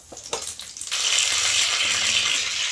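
Mustard seeds splutter in hot oil for tempering, starting with a few sharp pops and then swelling into a steady, dense sizzle with scattered crackles, close and loud, with no voices.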